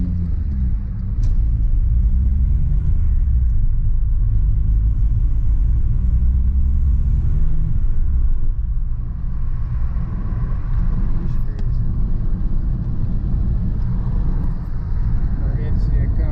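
Straight-piped 2004 Volkswagen Jetta TDI diesel exhaust heard from inside at highway speed, a steady loud low drone and rumble with road noise that holds throughout.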